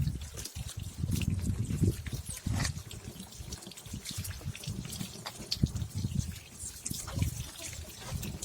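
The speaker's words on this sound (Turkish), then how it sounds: "Ve farımızı güzel bir şekilde temiz bir suyla yıkayacağız." Clean water splashes and trickles steadily over a car headlight being washed after masking tape is removed, a continuous close wet gush with small drips, with faint talk in the background.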